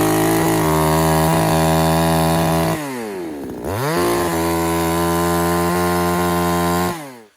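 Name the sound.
chainsaw with KazPro chain cutting wood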